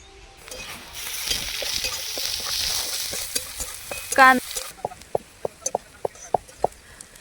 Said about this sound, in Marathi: कांदा छान असा लालसर तळून घ्यायचा आहे